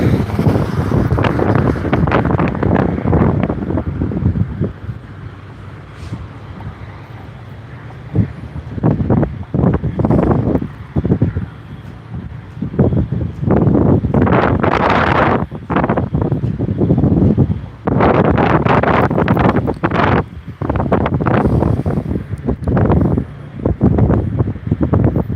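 Strong gusty wind buffets the microphone outdoors beside a road, roaring in loud bursts that swell and drop with short calmer lulls in between.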